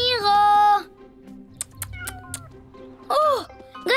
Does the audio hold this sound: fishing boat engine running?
no